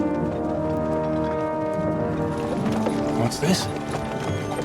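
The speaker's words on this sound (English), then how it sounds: "Ele não tava com esse cavalo aí, esse barulho. Parecia que era um cavalo diferenciado" Horse hooves clip-clop steadily in the video game Kingdom Come: Deliverance 2, a continuous galloping rhythm under a dense game soundscape, with a brief spoken line.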